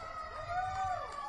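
Outdoors during a rally near the White House, a faint siren wails with rising and falling tones, heard from a distance over a low crowd murmur.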